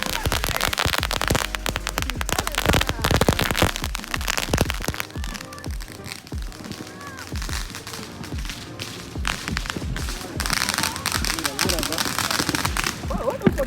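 Fireworks go off in a neighborhood street, a dense barrage of sharp cracks, pops and thuds firing rapidly and loudly throughout, with people shouting between the bangs.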